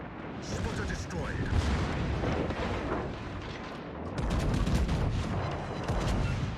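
Booming warship gunfire and explosions in World of Warships roll on continuously, dense and rumbling, with a heavier burst after the midpoint while voices shout in Turkish over the barrage.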